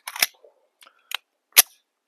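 Several sharp, brief cracks and clicks spaced irregularly, with one louder snap near the end. They come from a 9mm pistol firing a soft jacketed hollow point round, with no voices.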